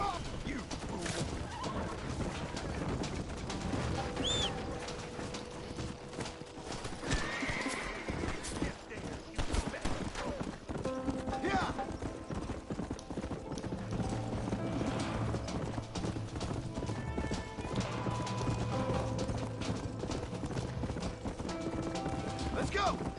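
Hooves clip-clop steadily as a horse moves through the Western video game Red Dead Redemption, with occasional whinnies, gunfire-like bursts and someone talking over the busy game sounds throughout.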